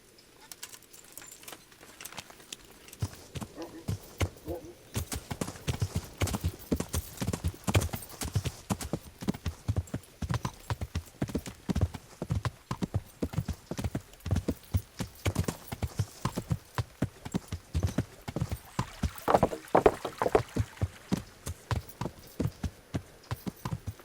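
Horse hooves galloping in the Kingdom Come video game, a fast rhythmic clip-clop running steadily throughout at moderate level, with faint bird calls in the background.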